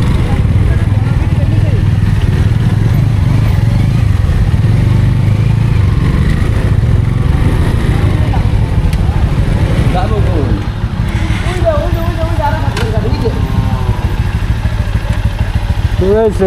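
A freshly serviced motorcycle engine drones steadily while riding on the road between Sherpur and Jamalpur, a loud, continuous rumble with passing traffic noise, and a voice talks over it.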